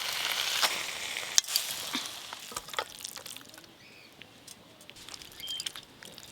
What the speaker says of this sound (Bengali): খিচুড়ির জন্য এবার সব সবজিগুলো প্রথমে ভেজে নেব।